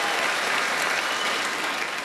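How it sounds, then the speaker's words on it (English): A stand-up comedy audience breaks into loud, dense applause, a steady wash of clapping hands filling the room without a break. "You applauded for beaver tails."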